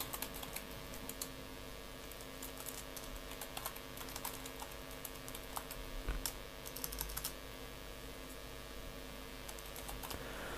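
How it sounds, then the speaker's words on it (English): Quiet, close keystrokes on a computer keyboard tap in irregular bursts as an email address is entered, over a faint steady electrical hum, with no voices. "I'm gonna type my email address."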